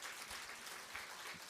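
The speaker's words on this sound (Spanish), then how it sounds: "Aplauso." Applause during a Quechua Sunday church service, a brief burst of steady, dense clapping from a congregation, fairly faint and heard alone.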